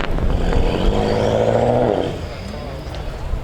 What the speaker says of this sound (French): elle fait un bruit de turbo, c'est bizarre